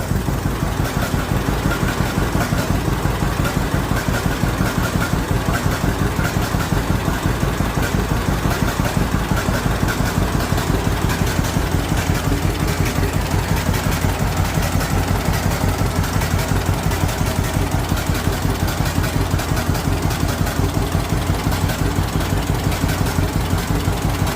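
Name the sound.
John Deere Model A tractor engine idling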